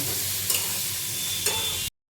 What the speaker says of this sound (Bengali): এবার এটাকে ভালো করে আমি ভেজে নেব